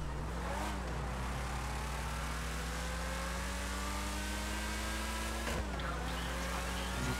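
Engine of a car in GTA 5 holds a steady, continuous drone with rising pitch sweeps as it revs and accelerates, a brief shift near the end, heard alone without talk.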